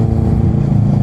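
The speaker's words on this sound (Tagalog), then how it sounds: "Sarap gumaragal yung motor. Sana naririnig ng mic ko yan." Motorcycle engine on a night ride near Tagaytay, a steady loud low rumble close to the mic for about a second, no talk over it.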